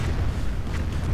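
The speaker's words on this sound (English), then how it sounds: "saturate the area with artillery and hope this will try and at least temporarily hold back the Germans" Calliope rocket artillery barrage in a World War II strategy game, a dense, continuous low rumble of overlapping booms and bursts, loud and sustained with no pauses.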